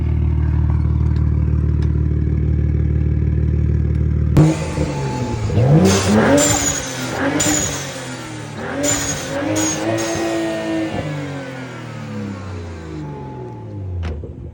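A BMW M235i fitted with a Forge Motorsports blow-off valve revs and accelerates hard, its engine climbing through several rising sweeps with valve hiss and clattering bursts between gear changes, loud and close from inside the car.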